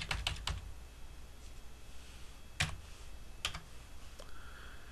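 Keys tapped on a computer keyboard while entering a web address into a form builder, a quick cluster of clicks followed by a few scattered single keystrokes, close and crisp over quiet room noise.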